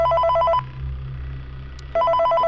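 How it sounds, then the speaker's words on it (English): A telephone rings in the Five Nights at Freddy's 3 video game: two loud electronic trilling bursts separated by a pause of low hum, close and clear. "Got a phone call"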